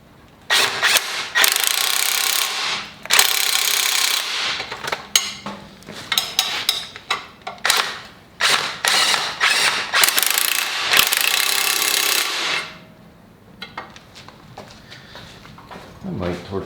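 Ratchet wrench tightening 17 mm control arm bolts with alignment washers on a Mazda Miata, repeated clicking bursts loud and close, stopping and starting, with a person talking over parts of it.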